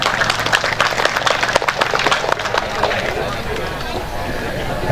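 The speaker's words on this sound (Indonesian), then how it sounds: "Semangat, tepuk tangan." Crowd applause at a village rice harvest gathering, brisk clapping mixed with chatter and background voices, fairly loud and continuous throughout.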